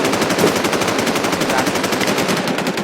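Rapid, continuous automatic gunfire from the video game Warz, loud and dense, with bursts running together for the whole stretch.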